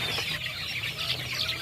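Chickens in a coop for Joper chickens, a native-cross breed, cluck and chirp continuously as a dense flock, with steady overlapping calls and no talking.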